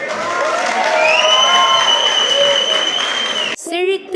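A stage audience claps to welcome Achu's Rhythmic Souls troupe for a skit performance, a broad steady wash of applause with some cheering, then a voice speaks briefly at the end.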